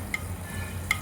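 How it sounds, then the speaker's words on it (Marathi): Anarse frying in ghee in a pan on a very low flame give a soft, steady sizzle, with two brief clicks of a utensil against the pan. "तळताना एकदम बारीक फ्लेम ठेवायची गॅसची, तरी पण हे तळला जातो"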